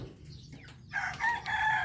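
Rooster crowing loudly and close by in the second half, with chickens clucking around it and a quieter stretch of farmyard noise before it.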